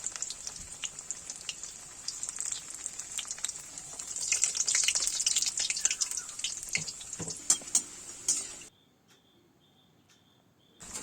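Chicken pieces sizzling steadily in hot oil in a deep pan, a dense bright crackle with scattered pops, then it cuts off abruptly near the end.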